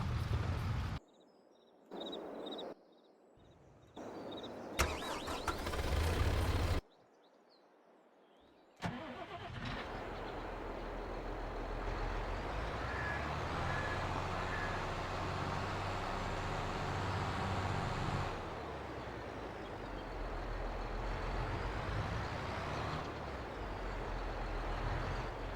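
A farm vehicle in Farming Simulator 22 cranks over after a few choppy bursts, then settles into a steady mid-pitched engine rumble that holds close and even for a long stretch.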